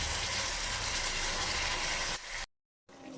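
Minced lung and spleen sauté with salt, spices and curry leaves in a hot pan, giving a steady, loud, hissing sizzle that thins, cuts to silence, then returns faintly.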